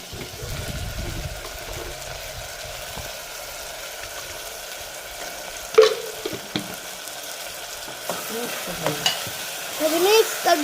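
A spiced vegetable khichdi mixture with turmeric, red chilli and salt is stirred in a pot, a low background sizzle broken by a few spoon knocks and scraping bursts toward the end, no talk.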